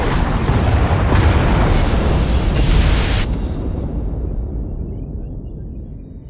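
Loud explosion destroying pod bays in a sci-fi video game: a massive roaring blast that fills the space for a few seconds, then slowly dies away into a low rumble.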